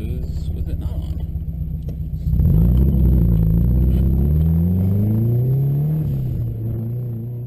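A Subaru car accelerating toward 65 miles an hour during cooling tests, its engine note climbing loudly and steadily after a quieter opening, with close rumbling road noise underneath.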